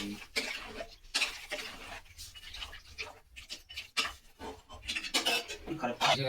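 A spoon scraping and clinking around a metal cooking pot while food is stirred, a steady busy rhythm of knocks and scrapes with people talking over it throughout.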